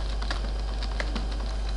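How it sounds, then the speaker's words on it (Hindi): Keys clatter on a computer keyboard while someone types a document in Microsoft Word 2013, a short steady run of close, light clicks with no voices. "जो भी टाइपिंग करना है।"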